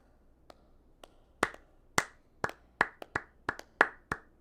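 A lone person claps in the Valkyria Chronicles video game, starting with slow, sparse claps that grow louder and quicker into a steady run of crisp, close hand claps.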